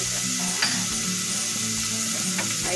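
Garlic sizzles steadily in a hot pan while vegetables cook for a green bean sauté, with a continuous close frying hiss and a few light stirring scrapes and clicks throughout.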